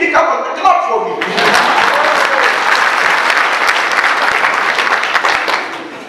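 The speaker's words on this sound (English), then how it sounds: "Come on, clap for me." After a brief spoken line, an audience breaks into loud, steady applause that carries on for several seconds before starting to fade.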